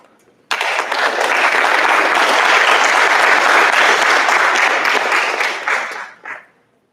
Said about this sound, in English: Please hold your applause until the conclusion of the names.